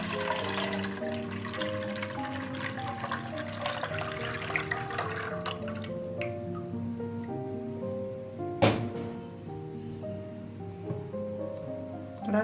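Milk is poured through a kitchen sieve for homemade yogurt, making a soft, continuous liquid trickle and splash over steady background tones, with one brief knock partway through.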